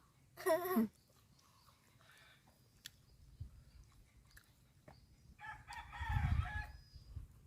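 A chicken on a farm gives a short, loud crowing call at the start, followed later by scattered faint clucks and rustling handling noises nearby.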